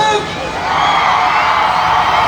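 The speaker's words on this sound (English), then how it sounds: "The crowd certainly seemed to love it." Crowd at a monster truck freestyle event at the Warren County Fairgrounds in Front Royal, Virginia, cheering and whooping loudly in a sustained roar that swells after a brief opening burst.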